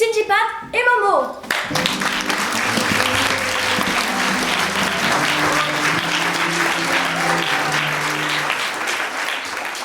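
Sustained applause from the audience at a French secondary school (collège) theatre play, dense and steady for most of the stretch, following a brief spoken introduction at the start.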